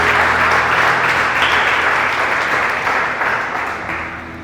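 Church congregation applauding during a service, a loud, dense wall of clapping that slowly fades toward the end.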